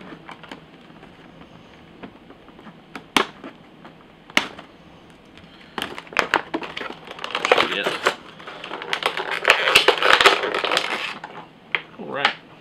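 Plastic packaging ties are being cut off a boxed horror action figure: sharp snips and clicks, then a longer stretch of crinkling and rustling plastic, with a voice talking briefly.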